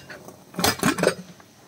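A pressure cooker holding cooked beef is opened, with a short cluster of close metallic clanks and scrapes from the lid that rises for about half a second and then fades back to quiet room tone.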